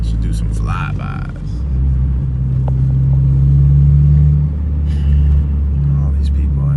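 A built Mazdaspeed 6 pulls hard, its engine rumble swelling and holding a steady droning pitch before easing off, with road noise underneath and brief speech-like sounds at the start and near the end.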